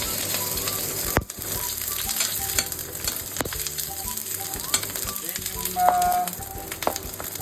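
Onion sautéing in a hot pan for chicken tamarind soup, a strong continuous sizzle with crackles and occasional clinks of a utensil, fairly close.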